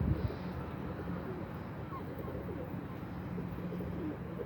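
A stubborn, agitated pigeon coos low and soft, close by and faint against a steady ambient hum.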